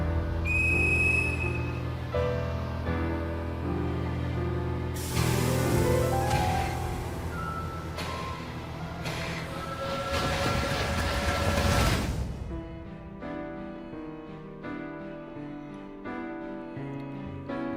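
In a video game, a loud train whistle sounds in long sustained blasts over the steady rumble and clatter of a rolling train, then the whistle stops and the rolling continues with music-like tones.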